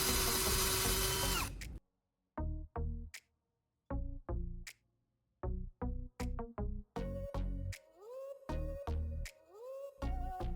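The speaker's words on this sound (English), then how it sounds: "Now, I'll drill 2 holes at these marked points." A power drill bores holes into a wooden base for turnbuckle rods. Short, loud whirring bursts start and stop repeatedly, close up and alone, after a brief hiss at the start.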